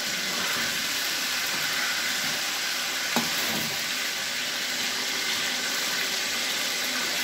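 Chicken pieces fry in hot oil while being turned, giving a steady, loud, close sizzle that holds for the whole stretch, with one brief clink partway through and no talking.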